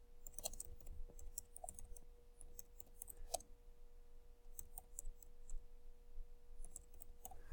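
Computer keyboard typing while a chart title is edited, faint irregular clicks and short bursts of keystrokes scattered across the clip over a quiet background hum, with no talking.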